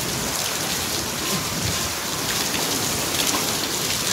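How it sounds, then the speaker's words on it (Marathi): Heavy rain mixed with falling hail pours down during a storm, with thunder also reported. It makes a dense, steady roar that stays loud and even throughout, with no voices. "खतरनाक पाऊस आला."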